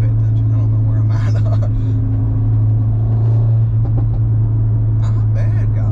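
An MK8 Golf R / 8Y S3 with a DBV2 4-inch downpipe cruises with a loud, deep exhaust drone that swells into a rumble midway, while someone talks over it throughout.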